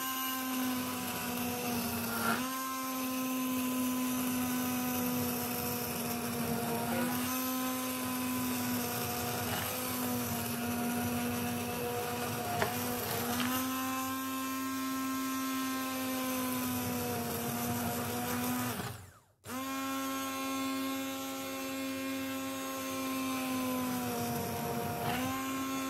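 A kitchen blender whirs through a mixed vegetable soup, a steady loud motor whine with shifting pitch as the load changes, cut off briefly once before restarting.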